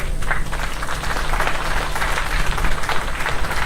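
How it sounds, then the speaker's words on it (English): Steady, dense applause from a conference audience fills the hall, loud and continuous throughout with no speech. "A big round of applause, please"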